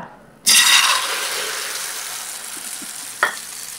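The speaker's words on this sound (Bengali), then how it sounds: "তেলটাকে গরম করে নিয়েছি। দিয়ে দিচ্ছি সবজি এবং ডিমের মিশ্রণটা।" A vegetable and egg mixture hits hot oil in a pan with a sudden loud sizzle that slowly fades to a steady frying hiss, and one short scrape of a spatula comes near the end.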